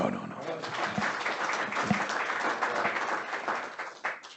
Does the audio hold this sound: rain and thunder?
no